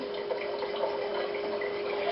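Water pours steadily into a Presto pressure canner, a continuous splashing stream with no talk over it.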